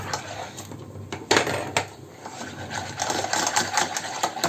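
Flour being stirred into a white sauce in a pan, a busy scraping and clinking of a utensil against the pot, close and steady with a few sharper knocks, no talk.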